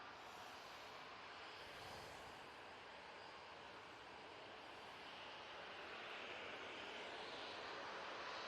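An Easyjet airliner arriving at Manchester Airport produces a steady, distant jet roar that swells slightly toward the end, heard from outdoors with no voices.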